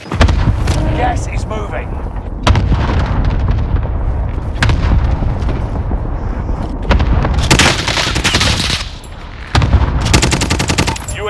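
Cluster airstrike in Call of Duty Warzone, a rapid string of loud booming explosions and gunfire bursts layered one after another, with a radio voice talking over them.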